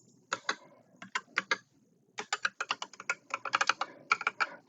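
Keys on a computer keyboard are tapped out as a password is entered, short bursts of crisp clicks, a pause, then quicker runs of keystrokes, close and fairly quiet, with no voice.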